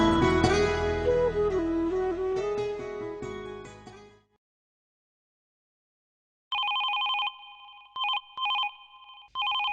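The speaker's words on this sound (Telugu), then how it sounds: "ఫోన్ రింగ్ అవుతుంది చూడు" A telephone rings in a home in repeated bright electronic bursts, starting after music fades into a few seconds of silence.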